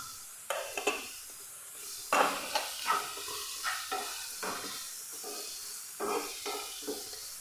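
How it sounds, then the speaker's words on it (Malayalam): Finely chopped medium onion sautéing with salt in a pan for chicken samosa filling, soft sizzling with repeated spatula scrapes and stirs in short bursts, close and moderately quiet, no talk. "മീഡിയം സൈസ് സവോള ചെറുതായി അരിഞ്ഞെടുത്തിട്ടുള്ളതാണ് അപ്പം അതും കൂടെ നമുക്ക് ചേർത്ത് നല്ല പോലെ ഒന്ന് വഴറ്റിയെടുക്കാം"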